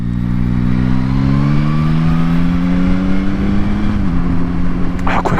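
A Yamaha Tracer 9 GT motorcycle pulls hard, its engine note climbing loud and close, then dipping briefly as the quick shifter snaps up a gear before rising again amid rushing wind.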